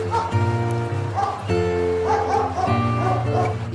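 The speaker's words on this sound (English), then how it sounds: "D for dog." A dog barks and yips a few times within a children's phonics song, the short calls mixed into a steady musical accompaniment rather than heard alone.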